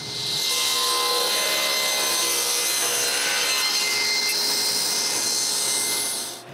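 A power saw rips thin strips from walnut boards, a loud sustained high whine and rasp of blade on hardwood, steady and close, with no talking.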